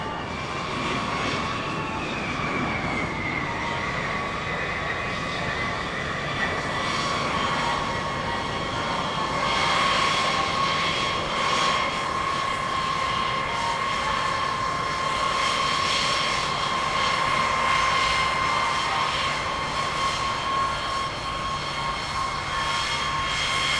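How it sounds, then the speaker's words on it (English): The engines of a Boeing B-52 bomber run steadily before taxiing, a loud, continuous jet roar with a whining tone that holds for the whole stretch and is heard alone. "we get ready to taxi the aircraft out to the Hammerhead"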